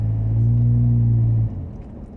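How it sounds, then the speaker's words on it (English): Jeep JK with a Flowmaster muffler delete exhaust driving, a steady loud low rumble that drops sharply in level about one and a half seconds in, then continues quieter. "I'm going to put that muffler delete on there, and we're going to go for a drive again with that"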